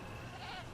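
A single short goat bleat from the Jurassic World Evolution video game, wavering and moderately loud against a steady background hum.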